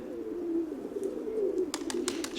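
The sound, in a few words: pigeons cooing in a loft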